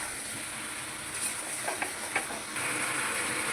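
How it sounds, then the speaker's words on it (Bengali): Chicken pieces fry in a pan for a red chicken curry, a soft, steady sizzling hiss broken by a few light clicks of stirring, quiet and without talk. "আর হালকা আছে এটাকে আমি কষিয়ে নেবো মাংসটাকে"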